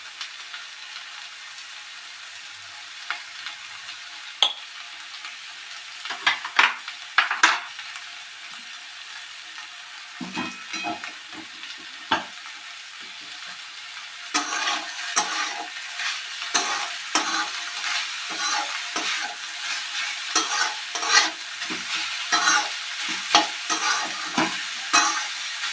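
Flat beans with salt and turmeric are sautéed in a pan. Quiet sizzling at first gives way to louder frying and a run of scraping spatula strokes in the second half.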